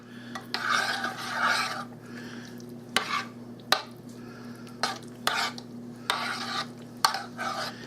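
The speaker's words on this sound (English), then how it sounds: "I'm mixing it right in this pan." A spoon mixes baked beans with minced ingredients in a pan, scraping and rasping in bursts with sharp knocks against the metal between strokes, close and alone over a low steady hum.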